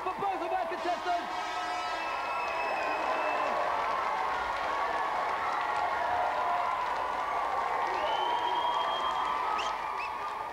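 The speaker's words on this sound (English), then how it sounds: "let's have a big round of applause for both of our contestants" Studio audience applauding contestants on a television game show, a steady dense wash of clapping and some cheering that holds for about ten seconds, loud and continuous.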